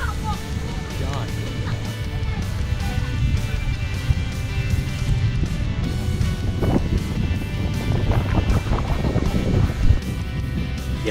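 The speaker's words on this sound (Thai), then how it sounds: "ข้างบนเนี่ยลมแรงมากๆเลยครับ" Strong wind blows across the mountaintop at Pha Hin Kub in Chanthaburi, a steady roaring buffet against the microphone that lasts throughout, with low rumbling gusts swelling in the middle.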